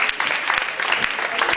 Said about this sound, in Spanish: un aplauso para todos los que han organizado este evento tan bonito